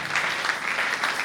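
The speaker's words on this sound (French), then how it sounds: "Est-ce que tu peux acclamer comme le Seigneur?" Congregation at a Christian church service applauding together, a steady dense wash of clapping that holds at an even level for the whole moment, with no voices rising above it.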